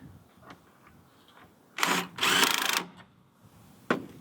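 A power drill drives screws into porch boards in two short bursts, the second longer, followed by a faint tap, heard close with no talking.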